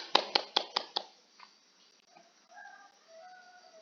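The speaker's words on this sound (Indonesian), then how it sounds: "Tepuk tangan dulu untuk anak Yustin." Brief applause from a classroom of students during a peer-teaching biology lesson: about five sharp, evenly spaced claps close by, then fading into faint room noise and distant voices.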